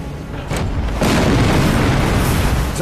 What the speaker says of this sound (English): One more explosion should finish it.